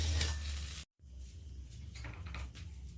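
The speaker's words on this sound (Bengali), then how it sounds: "এবার পেঁয়াজটা দিয়ে রসুন আর পেঁয়াজটা এইভাবে হালকা লালচে করে ভেজে নিলাম" Onion and garlic fry in a kadai alongside already-fried chillies, giving a steady close sizzle with stirring scrapes and a brief dropout near the start.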